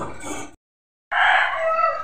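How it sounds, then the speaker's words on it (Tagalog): A chicken makes a short clucking call, falls silent for about half a second, then gives a loud, close, drawn-out crow. "Ay, manok pala ito."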